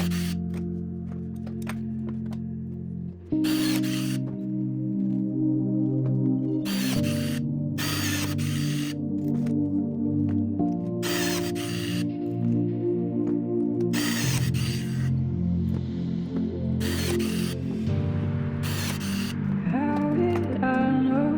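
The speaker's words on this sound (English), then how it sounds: "riveting this front edge here." Pneumatic rivet gun setting rivets along the front edge of a Rans S-21 aircraft's left wing, repeated short bursts at irregular intervals over a steady mechanical hum, close and loud with no talking.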